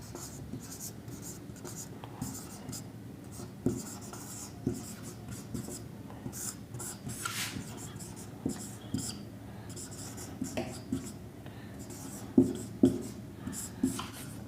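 Writing on a board during a Hindi history lesson: steady scratching strokes run through the whole stretch, with sharper taps and bursts toward the end, over a faint room hiss, with no talk.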